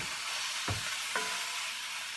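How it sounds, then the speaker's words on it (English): Plantain slices frying in a pan give a steady hiss of sizzling oil, with two brief scraping stirs and no talking. "you just start frying it"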